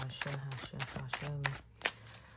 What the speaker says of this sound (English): I'm just going to kind of shuffle up these tarot cards and get them ready to go as well